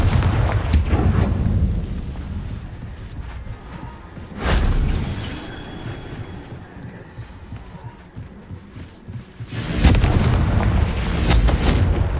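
Confringo fire spell explosions in the Hogwarts Legacy video game: loud booming blasts near the start, around four and a half seconds and near ten seconds, each with rumbling decay, alone without talk.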